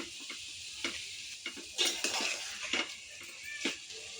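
Yogurt and salt stirred into haleem in a metal pot, with a spoon scraping and clinking against the sides in irregular close strokes and a faint sizzle underneath.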